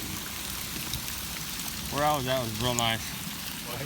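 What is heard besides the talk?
light drizzle of rain after hail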